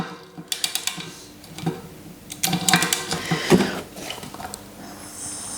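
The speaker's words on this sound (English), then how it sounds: "Look away, I'm using a torque wrench as a wrench" Rotor bolts on a Giant Propel bike wheel being turned with a torque wrench used as a plain wrench: a run of close, sharp metallic ratchet clicks and small mechanical clatters, some in quick bursts, with no talking.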